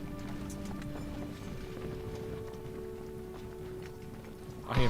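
Horse hooves run in the Civil War strategy video game Ultimate General: Civil War, a continuous rumbling clip-clop with a steady game-music drone beneath.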